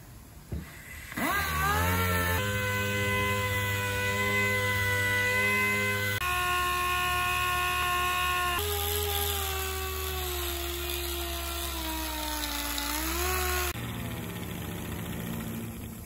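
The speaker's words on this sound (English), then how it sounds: "We'll sand it with the DA. The reason I'm going to use an orbital sander is it cuts a little more aggressive" An orbital DA sander working on a Honda S2000 aero side mirror, spinning up after a brief pause into a loud, steady whine with shifting pitch steps, then cutting off near the end.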